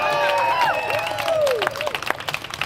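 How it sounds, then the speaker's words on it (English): A crowd at an outdoor clean water rally in San Francisco breaks into a steady round of applause, with whistles and cheers sliding above the clapping, which grows sharper and more scattered toward the end. "Give yourself a great round of applause."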